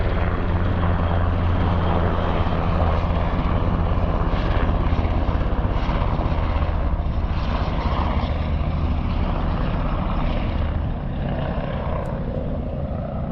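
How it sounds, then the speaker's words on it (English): A helicopter passes over Watson's Bay in Sydney, Australia, its steady rotor and engine drone loud and continuous throughout, fading slightly toward the end, with no talk over it. "wow, look at that chopper."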